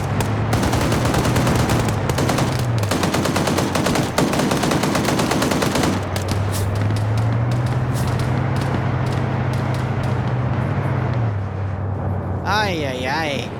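Dense, loud bursts of automatic gunfire and single shots crackle almost nonstop through a PvP video game match, with a droning engine underneath and a voice cutting in near the end.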